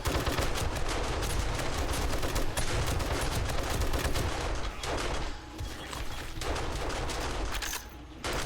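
Gun turrets fire in the survival game 7 Days to Die, dense rapid bursts of automatic gunfire that run almost continuously, loud and close, with no talking.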